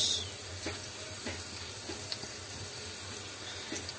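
Soft, steady hiss of food sizzling in a pan, with faint scattered pops over a low background.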